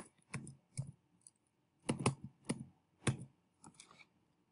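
Fingers type on a computer keyboard, producing quiet bursts of crisp key clicks in uneven clusters with short pauses between them.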